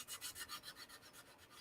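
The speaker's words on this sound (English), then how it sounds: "So just some light sanding here is going to fix that" Light sanding on a plastic Tamiya M1A1 Abrams tank model, a soft rhythmic rasping of about eight quick strokes, close and fairly quiet, with no talk.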